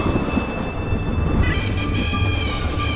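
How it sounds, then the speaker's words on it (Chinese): Thunder rolls as a continuous, loud, low rumble with a broad noisy wash above it, lasting the whole moment without a distinct crack. "奇怪，怎么光打雷不下雨？"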